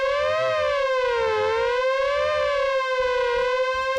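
Groove Synthesis 3rd Wave synthesizer holding one bright, buzzy tone with a heavy LFO pitch warble, the pitch swooping slowly up and down in a siren-like cycle, loud and alone.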